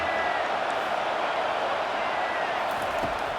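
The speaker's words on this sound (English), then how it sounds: "Decibels rising as the crowd gets behind this defense on third down." Stadium crowd noise in the College Football 25 video game, a loud sustained roar on a third-down defensive stand, steady throughout the short stretch with commentary over it.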